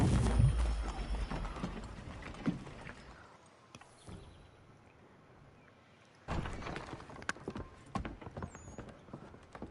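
Horse hooves clopping in quick bursts in the video game Assassin's Creed 3, loud at first, fading through a quieter stretch, then returning with thuds and clatter.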